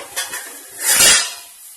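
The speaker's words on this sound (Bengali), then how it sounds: "এই যেটা ভাজছি, এটা আমি একটু কষবো" Spices with Kashmiri chilli fry in a pan for mutton biriyani, with a brief stir: a utensil clink, then a short swelling scrape and sizzle close by, no voices.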